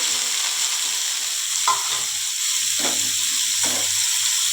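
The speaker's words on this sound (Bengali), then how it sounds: "এবার সিদ্ধ করে রাখা থোড়টা" Boiled banana stem frying in hot oil with tempering spices, a steady close sizzle with a few scraping stirs of the spoon against the pan, alone without talk.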